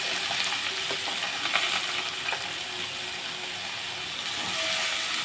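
Onions, green chillies and curry leaves fry in a pan with a steady, moderate sizzle, overlaid by occasional scraping and clicking stirs of a utensil.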